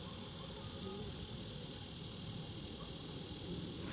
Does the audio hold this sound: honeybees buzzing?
yes